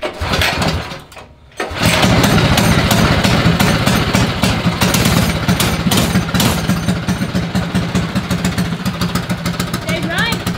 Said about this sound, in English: They call this motor a World Formula. I fired it up when we left.